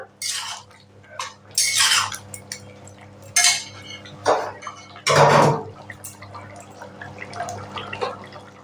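Mutton and ash gourd curry with ghee being stirred in a pan: close, uneven metallic scrapes and clinks of a utensil against the pan in bursts, with a soft wet bubbling underneath.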